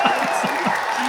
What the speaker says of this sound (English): We're gonna put in the audience applauding here as well.